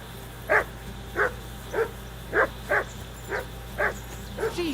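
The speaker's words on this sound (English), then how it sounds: "that barking's driving me nuts" A dog barks in a medieval village in the game Kingdom Come: Deliverance II, eight evenly spaced barks at a moderate distance over a low steady hum.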